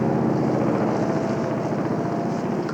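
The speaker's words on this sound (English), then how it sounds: "So not even planes, they're choppers." Helicopters fly close overhead, a loud, continuous low rotor thudding and engine drone that fills the whole stretch with no voices.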